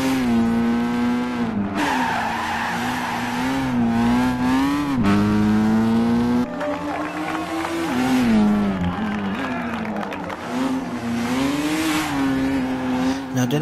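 Mazda RX-7 FD in Gran Turismo cornering through a turn in third gear, its rotary engine droning loudly with shifting pitch as tires squeal, brief downshift dips and revs rising again, continuous and close.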